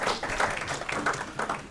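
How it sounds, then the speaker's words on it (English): An audience at a talk on a book about Ronald Reagan claps, with dense, steady applause rolling on softly, slightly distant, in low, even waves for under two seconds. "how about a round of applause for that fantastic coup?"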